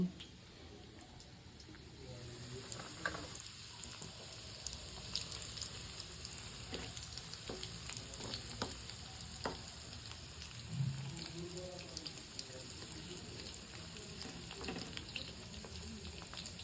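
Soya chunk chips fry gently in oil over low heat, a soft steady sizzle with scattered pops and crackles running throughout at a low, even level.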